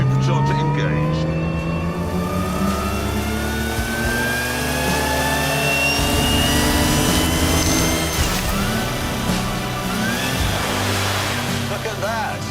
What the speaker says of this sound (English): Supercharger engaged.